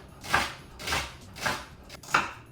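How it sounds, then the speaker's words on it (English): A knife chops celery on a board for cabbage soup, four crisp, evenly spaced strikes about half a second apart, close and clear with no talking. "chop to your desired celery size for your soup"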